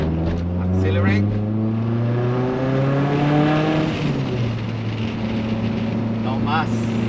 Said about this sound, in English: Accelerate.